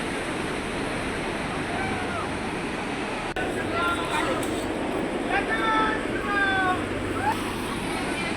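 Rameshwar waterfall at Jamkhed roars as a steady broadband wash of falling water, loud and constant throughout, with gusts of wind on the microphone and bird chirps breaking through partway in.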